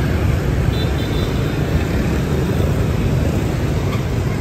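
Dense motorbike traffic at a Saigon street crossing, a loud, continuous roar of engines and road rumble close by, steady with no breaks.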